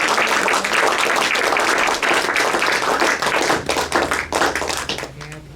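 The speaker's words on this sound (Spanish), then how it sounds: "¿Por qué no damos una ofrenda de palmas al Rey?" Church congregation clapping hands together, a loud, busy wash of close applause that fades away over the last second.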